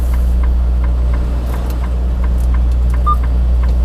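A semi truck's engine idles with a loud, steady low rumble as the vehicle creeps forward slowly. Faint regular ticking sits over the drone, and there is no speech.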